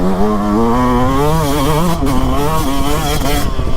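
A Yamaha YZ 125 or YZ 250 2022 motocross bike engine revs hard while riding on soft ground, a loud, steady, close two-stroke whine that rises and falls in pitch with the throttle.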